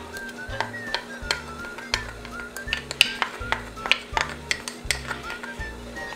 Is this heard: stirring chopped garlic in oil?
yes